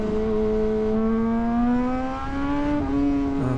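A sportbike engine revs with a strong rising whine that climbs in pitch, dips briefly, then surges again, loud and close with no voices.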